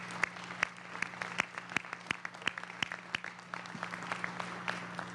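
Scattered audience applause at a state Senate press event unveiling plastic bag ban legislation, with distinct individual claps at an irregular rhythm over a steady low hum, fairly sparse and moderately distant.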